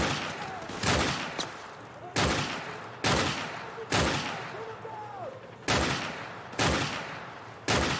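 Repeated bursts of gunfire in Call of Duty: Modern Warfare Remastered on PC, about eight loud volleys spaced roughly a second apart, each with a sharp attack and a decaying echo over a noisy battlefield bed.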